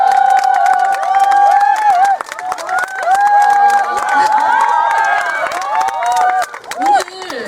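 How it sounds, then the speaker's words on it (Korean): Audience at a film festival open talk at the Bucheon International Fantastic Film Festival claps and cheers, with sharp clapping and high-pitched excited squeals and shouts rising and falling over several seconds. "네, 박수 한번 부탁드립니다"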